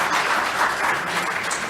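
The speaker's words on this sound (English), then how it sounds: "I would like to give them just a round of applause for all of that." Convention audience applauding at a horse racing industry gathering, a brief, steady wash of many hands clapping that fills the room evenly from start to end.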